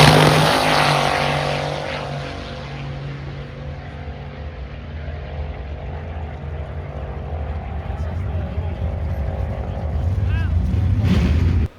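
A VK56 Fairmont exhibition drag car on used tyres makes a pass, its loud engine roaring continuously in a sustained, heavy drone that dips briefly and builds again, with faint voices beneath.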